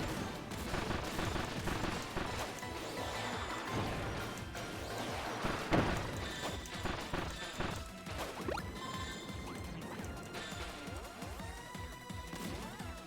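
Bombs burst over and over in Kirby's Return to Dreamland Deluxe, a dense run of crashing, gunfire-like blasts mixed with busy game music and effects, loud and constant for the whole stretch.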